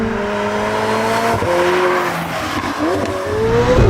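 A McLaren 765LT fitted with a Novitec exhaust revs loudly and close by, its engine note rising and falling through gliding harmonic sweeps with a brief dip midway, alone without voices.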